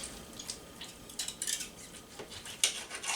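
Cooked meat is sliced with a knife and fork on a plate, with close, quick scraping cuts and small metallic clicks of cutlery in a short, busy burst.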